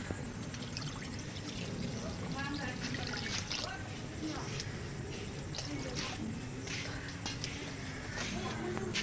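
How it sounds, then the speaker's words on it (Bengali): Milk is poured into a kadai set on a lit stove, a faint, steady liquid rush with soft trickling against a background hum. "এবারে আমি দুধ দিয়ে দেব কড়াইতে"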